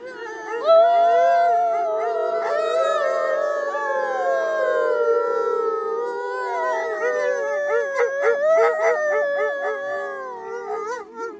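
Many voices howl together in long, rising and falling wails, loud and sustained, like a crowd imitating wolves.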